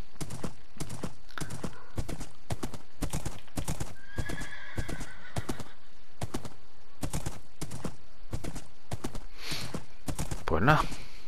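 Horse hooves clip-clopping steadily while riding in Minecraft, an even, loud rhythmic patter of evenly spaced hoofbeats, with a brief whinny-like snort near the end.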